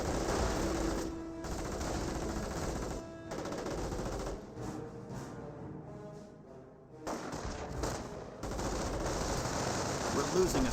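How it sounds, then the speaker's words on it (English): Rifle and machine gun fire from the Company of Heroes video game, a dense continuous crackle of overlapping bursts from Riflemen and Panzer Grenadier squads, briefly thinning midway before swelling again. "Panzer Grenadiers receiving quite a bit of fire there from the Rifleman squad."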